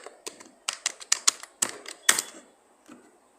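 Typing on a computer keyboard: a quick run of sharp, close key clicks in an uneven rhythm, trailing off into a few scattered taps, with no speech.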